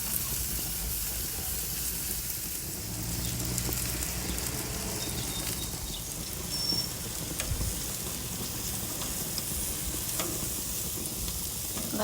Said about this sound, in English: I heated up my grill pan. It just makes cooking shrimp so much easier.